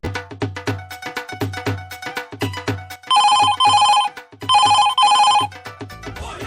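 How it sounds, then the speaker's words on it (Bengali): A telephone rings with an electronic melodic tone in two bursts, each about a second long, loud and close. The ringing follows several seconds of rhythmic tonal beats. "কিন্তু উস্তাদকে একবার ফোন করে জিজ্ঞাসা করে নি।"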